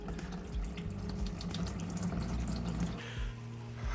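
Coolant and flush solution draining from an 89 Chevy truck, a steady splashing, trickling stream of liquid, close and continuous for a few seconds.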